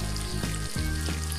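Hilsa fish fries in hot oil with a steady, dense sizzle and crackle, close and continuous throughout, with no voices.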